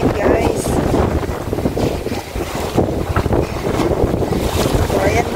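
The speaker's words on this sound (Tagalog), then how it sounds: "Grabe lakas ng hangin, guys." Strong wind by the sea in Rovinj, Croatia, buffets the microphone with loud, continuous roaring gusts over crashing waves and surf, with no break throughout.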